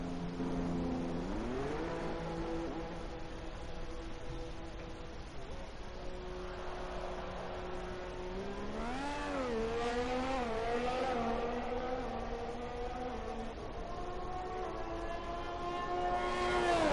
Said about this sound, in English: As we just watch the final cars come around to join